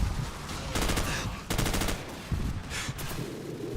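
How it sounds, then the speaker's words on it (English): Gunfire in a Call of Duty 4 campaign mission: bursts of rapid automatic fire and scattered single shots crackle over a busy battle din, some bursts sharp and close, others more distant. "Where am I even getting shot from?"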